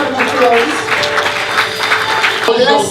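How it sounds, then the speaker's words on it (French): Guests at a 35-year wedding anniversary celebration applaud as the couple comes forward, loud continuous clapping with voices and a crowd murmur mixed through it. "nous allons applaudir."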